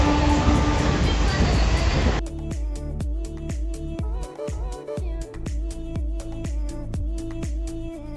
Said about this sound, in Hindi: किसी स्टेशन पे आके रुकी है ट्रेन